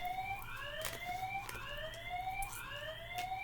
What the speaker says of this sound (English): That's the alarm that's in the hall.